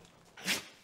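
An animal character sneezes once in the video game Spirit of the North, a single short, breathy burst over faint background game ambience.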